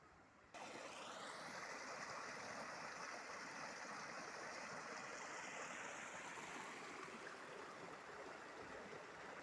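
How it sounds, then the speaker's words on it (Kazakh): Water of the Ural river near Atyrau flowing back into its channel, a steady broadband rushing wash that starts abruptly and holds loud and continuous, with no voices. "Жайық өзеніне қайтадан құйып жатыр. Су қайтып."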